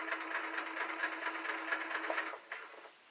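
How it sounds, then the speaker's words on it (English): A sewing machine chain-pieces fabric scraps for a crumb quilt block, giving a close, steady mechanical hum with fast repeating needle clatter that slows and stops near the end, with no speech. "And then just sew them, like so."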